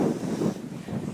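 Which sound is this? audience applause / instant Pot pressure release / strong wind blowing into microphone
strong wind blowing into microphone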